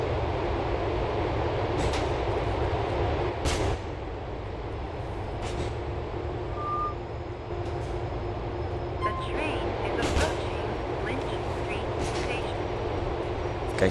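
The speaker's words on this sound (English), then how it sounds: "so you can actually move inside the train" A subway train rolls along its tracks in Grand Theft Auto IV, giving a steady rumble with a few sharp clanks from the rails. The sound runs at an even loudness through the whole stretch, with no voices over it.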